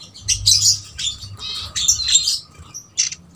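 Hungry birds call from an open, unfenced aviary, giving loud clustered squawks and chirps in bursts. Short pauses separate the bursts.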